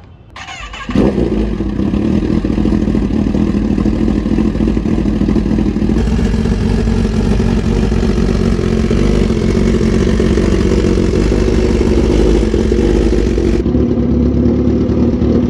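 A superbike engine fires up after a short crank and settles into a loud, steady idle with a deep throbbing note, close by, holding evenly for several seconds with a slight change in pitch midway; no one speaks.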